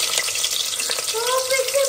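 Bay leaf and fennel seeds sizzle steadily in hot oil in a new pan, a close, continuous frying hiss with a few faint tonal squeaks near the end.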